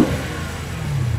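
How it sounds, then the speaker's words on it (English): A 2020 Dodge Challenger 392 Scat Pack V8 giving a brief low, rumbling growl, moderately loud and alone, with no talk. "It's the growling of that V8"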